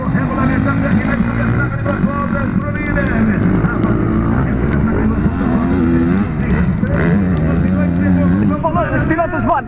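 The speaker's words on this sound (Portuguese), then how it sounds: "a segunda prova do campeonato baiano de motocross no estado da Bahia" Motocross motorcycles racing on a dirt track at a Bahia, Brazil championship round, engines revving and droning continuously under a crowd's babble and nearby speech.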